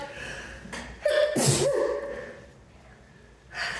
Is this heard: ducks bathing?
no